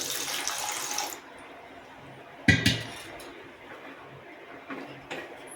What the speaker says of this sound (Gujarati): એમાં આપણે થોડું પાણી મૂકી દઈશું